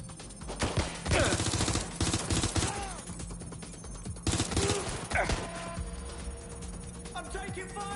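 Rapid automatic gunfire rattles almost without pause through a firefight in Watch Dogs Legion, loud and close, with bursts peaking around one and four seconds and crashing impacts mixed in.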